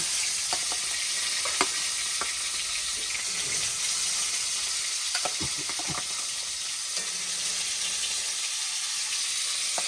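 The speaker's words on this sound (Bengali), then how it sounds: "এবার মাছ ভাজা হতে থাক" Fish fries in a pan with a continuous bright sizzle and scattered small pops and crackles over the whole stretch; no one speaks.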